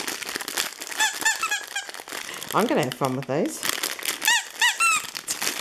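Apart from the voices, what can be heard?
squeaky pet toy being squeezed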